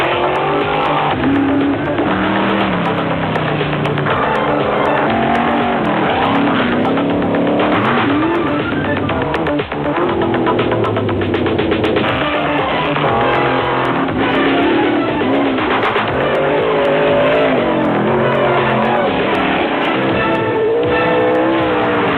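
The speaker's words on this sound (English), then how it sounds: "The classes in vehicles racing here today range from the professional and semi-pro stock car to specially built buggy-style vehicles" Race cars, from stock cars to buggy-style open-wheel machines, roar and rev continuously at a hill climb competition, loud engine noise with shifting pitch and occasional tire squeal, without any talking.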